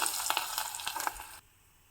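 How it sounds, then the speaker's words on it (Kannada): Hot garlic oil and curry leaf tempering hits baingan bharta in a loud, crackling sizzle with bright popping spits that quickly dies down to a faint hiss. "ಇವಾಗ ರೆಡಿಯಾಗಿರೋ ಭರ್ತಕ್ಕೆ ಒಂದು ಬೆಳ್ಳುಳ್ಳಿ ಎಣ್ಣೆ ಮತ್ತು ಕರಿಬೇವು ಹಾಕಿರೋ ಒಗ್ಗರಣೆ ಹಾಕ್ತಾಯಿದ್ದೀನಿ"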